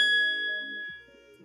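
A single bright electronic ding rings out and slowly decays, leaving a soft low tone trailing underneath.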